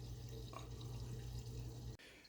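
Water drains steadily through a repaired bathtub drain with a faint, continuous running and gurgling, close by, ending abruptly near the end with no talking.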